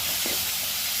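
Tomatoes dropped into a pan of sizzling fried onions, a dense, loud hiss of frying filling the whole short moment without pause.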